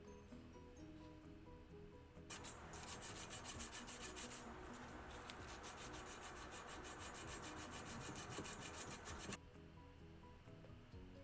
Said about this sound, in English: Because there was some solder on the fittings, I wanted to sand them down so the plate looked clean.